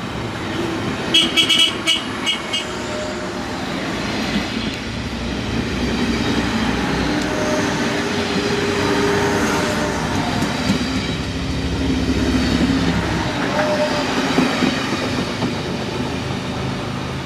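An IC3 train running toward Hamburg, its wheels rumbling steadily on the rails for the whole stretch, with a few short horn toots near the start and rattling carriage noise throughout.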